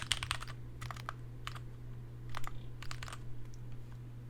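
Keys clatter on a computer keyboard in quick, close clusters of keystrokes separated by short pauses, set over a steady low hum and with no talk.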